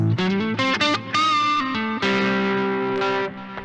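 An overdriven electric guitar on its neck pickup, through a Marshall Bluesbreaker-style pedal, plays a sustained, warm, rounded melodic phrase with smooth distortion, loud and alone.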